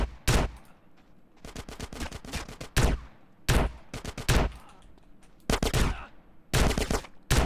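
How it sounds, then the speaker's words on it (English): Repeated gunfire in GTA San Andreas comes in loud, close bursts of rapid shots, several clusters separated by short gaps, with no voices over it. "Maybe better to use the shotgun, actually."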